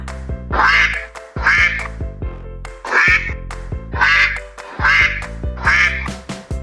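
A duck quacks repeatedly, six loud nasal quacks in a steady rhythm, close by with nothing else around.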